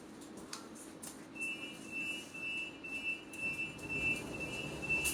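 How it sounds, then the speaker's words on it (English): A London tram runs on rails between Beckenham Junction and Wimbledon, a low rumbling roll over track joined by a thin, sustained high wheel squeal that carries on through the rest. "This tram is for Wimbledon."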